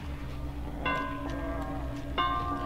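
Bell ringing in the Dead by Daylight game, two clear metallic strikes about a second apart, each ringing on with a bright tone over steady game ambience.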